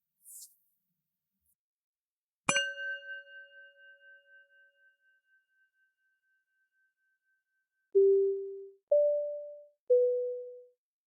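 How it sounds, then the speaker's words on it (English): A single bright chime rings out and slowly decays, followed after a pause by three short, steady tones rising then falling in pitch, in quiet surroundings. "The show will begin after the following chimes."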